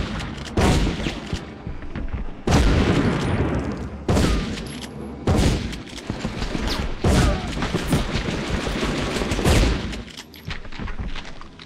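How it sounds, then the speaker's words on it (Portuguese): Gunfire and explosions from a grenade-throwing enemy attacking in Medal of Honor on PS1, with loud repeated bursts of shots and booms separated by short gaps over about twelve seconds. "Homem granada ataca novamente."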